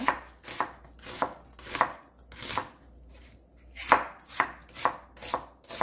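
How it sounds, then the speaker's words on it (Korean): A knife chops radish on a cutting board while beef soup ingredients are prepared, giving about a dozen sharp, evenly spaced strikes close by with a short pause midway and no voices. "무 썰어줍니다."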